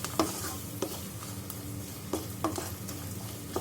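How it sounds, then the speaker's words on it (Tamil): Chili powder, turmeric, cumin and pepper powder fry in oil in a pan for a soya chunk fry, giving a steady close sizzle with occasional stirring scrapes and clicks. "மிளகாய்த்தூள், மஞ்சள் தூள், ஜீரகம், பெப்பர் தூள் எல்லாத்தையும் போட்டு நல்லா வதக்கிடலாம்."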